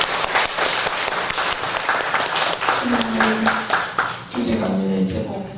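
Audience in a Korean church hall applauds together, steady dense clapping lasting throughout, with a few louder voices or cheers rising near the end.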